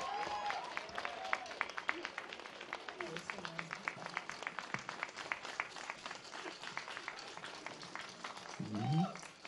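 Sustained audience applause with dense clapping fills a venue at an Advent Sunday concert, welcoming a singer on stage; the clapping stays steady and loud throughout, swelling slightly at the end.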